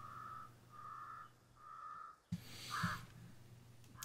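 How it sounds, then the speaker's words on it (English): Birds call around an outpost in the military shooter game Squad, with several evenly spaced whistled bird calls repeating over a low steady hum, followed by a louder burst of noise and another sharp call. "It has some pretty annoying birds, though."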